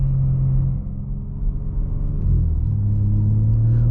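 A 2022 BMW M4 Coupe Competition engine rumbles steadily from inside the cabin while driving, a deep low drone that dips briefly then rises again in pitch as the car pulls.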